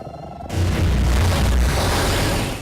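The Galactic Bang area attack from Grandia III goes off as a sudden, loud, sustained booming explosion that swells and rumbles for a couple of seconds after a quiet start.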